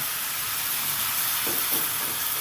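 Okra simmering in a pan after spice-rinse water is poured in, a dense, steady hiss of steam and bubbling, close and unbroken, with a few faint soft stirring thuds near the end.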